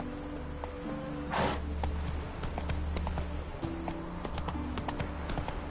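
Hoofbeats of the horse Roach running in The Witcher 3 video game, a quick steady clip-clop rhythm with a brief whoosh near the start, over game background sound.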